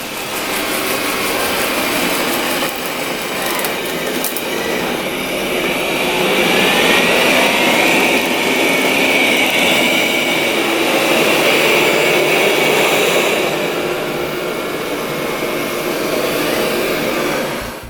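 Steady whirring suction hum with a high airy whine from a Roborock S7 MaxV Ultra robot vacuum, continuous and fairly loud throughout, rising slightly in the middle; no voices.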